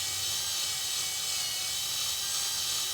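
A power drill bores steadily into a stripped metal screw, a continuous high, whining grind that stays close and loud for the whole stretch with no talking over it.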